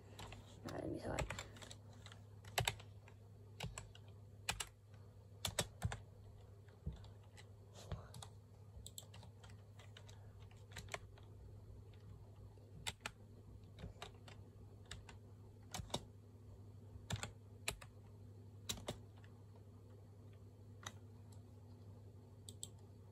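Typing on a computer keyboard, with irregular bursts of close key clicks spread over the whole stretch, set against a low steady hum and with a little talk in places.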